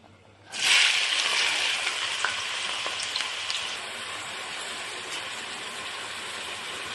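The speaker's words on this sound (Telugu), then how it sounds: "నూనె వేడింది, ఇప్పుడు ఉల్లిగడ్డ వేసుకుందాం" Sliced onions hit hot oil for a chicken masala curry, bursting into a loud hiss that settles into a steady, rain-like sizzle and crackle, close up with no talking.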